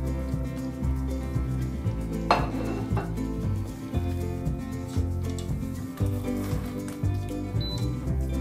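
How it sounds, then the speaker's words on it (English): A spoon scrapes and clinks steadily in a pan of paneer tikka masala, a close, continuous metallic stirring with irregular knocks over a low background hum. "Mix it and add all the tikkas which is already prepared."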